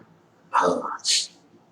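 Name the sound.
cough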